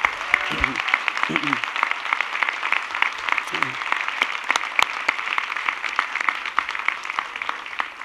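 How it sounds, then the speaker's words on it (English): Steady, sustained applause from a large crowd at a city inauguration ceremony in Somerville, Massachusetts fills the whole stretch, with a few brief voices rising underneath near the start. "Everyone please join me in giving them all a big round of applause."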